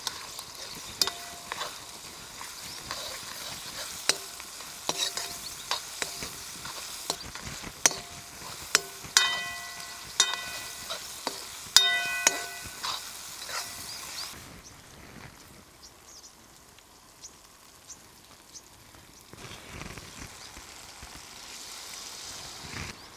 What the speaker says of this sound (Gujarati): હવે આપણે આ મસાલાને બધો પાકવા દેવું ઘડીક વાર.